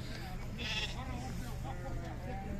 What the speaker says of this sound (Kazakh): Егіз қозысы мен.